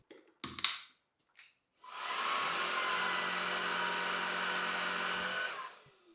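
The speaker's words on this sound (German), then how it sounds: "Sobald ihr den Staubsauger in die Dockingstation einsetzt, wird der Behälter automatisch entleert." Docking station of a Narwal V40 cordless vacuum empties the dust bin automatically with a loud, steady suction roar lasting about four seconds. A few clunks from seating the vacuum come first, and the roar winds down at the end.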